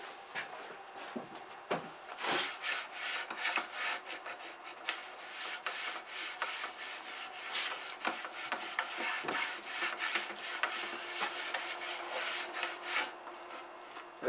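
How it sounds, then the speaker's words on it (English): A cloth wipes dust off the wooden case of an antique New Home sewing machine, giving a continuous close rubbing and swishing with brief scuffs and taps, steady and moderately loud throughout with no talking. "right now I'm just giving it a wipe down just to get all the dust off of it"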